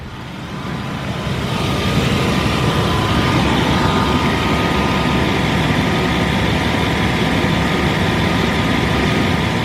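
A BMW 760 Li engine idles steadily just after an oil change, a continuous loud low rumble with a faint higher whine that stays even throughout, with no talking over it.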